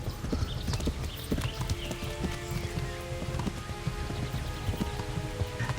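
Hooves of a fast horse in the medieval video game Kingdom Come Deliverance, rapid rhythmic clip-clop footfalls running steadily and fairly close, with a faint rain-like rustle of bushes beneath.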